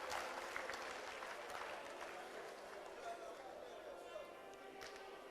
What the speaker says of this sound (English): Please, another round of applause for Professor Nana Jane Opoku Agyeman.